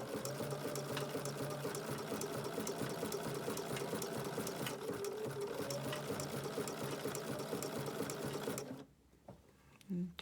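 A Bernina sewing machine with an open toe foot stitches raw edge appliqué, running in a steady rapid hum for about nine seconds before stopping, with faint talk over it.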